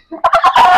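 An Aseel chicken on a farm gives a short, loud burst of clucking, a few quick throaty notes close by, lasting under a second.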